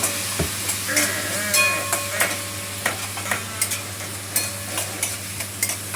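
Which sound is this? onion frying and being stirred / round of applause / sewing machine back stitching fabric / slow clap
onion frying and being stirred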